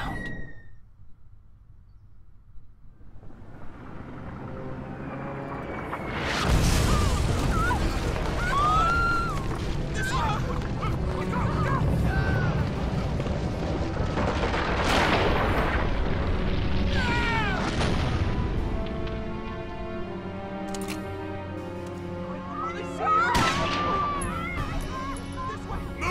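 A few heavy booms from explosions in the war video game Valkyria Chronicles break out over a continuous game soundtrack, while voices and meow-like cries carry on underneath.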